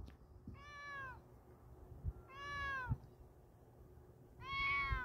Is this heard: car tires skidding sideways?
no